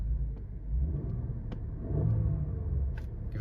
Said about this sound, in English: give it a bit of a rev.